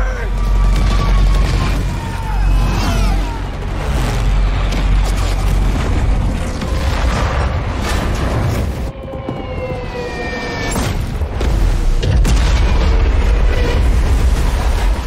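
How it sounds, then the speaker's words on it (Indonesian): Heavy booming blasts and rumbling roar from a surprise attack on a parked naval fleet in World War II, with scattered sharp bangs and dense low thunder throughout, loud and sustained with a brief dip midway. "Ledakan itu menciptakan gemuruh yang bahkan terdengar hingga ke pemukiman."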